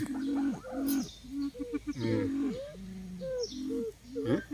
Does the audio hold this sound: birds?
yes